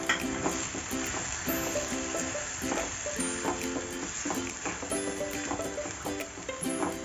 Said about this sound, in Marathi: आता टोमॅटो सुद्धा आपल्याला जेमतेम 5 मिनिटं तरी परतून घ्यायचा आहे